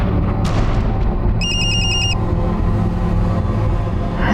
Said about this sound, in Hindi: जरा ये रिंगटोन सुनना.